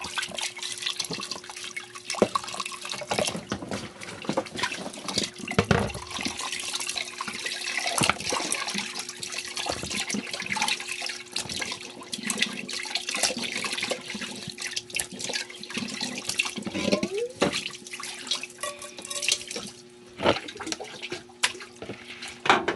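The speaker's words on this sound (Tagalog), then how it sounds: "Yan, hugasan natin mabuti para matanggal." Food rinsed by hand under a running kitchen tap, a steady close splash and gush of water with sloshing and occasional clatters, continuous for over twenty seconds with no talking.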